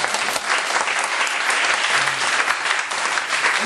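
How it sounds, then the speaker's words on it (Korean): A church congregation claps steadily in dense, sustained applause filling the room, loud and continuous without pause, during an evening worship service. "우리 친구 박수 해주시기 바랍니다."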